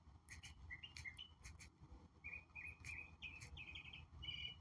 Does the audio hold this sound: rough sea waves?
no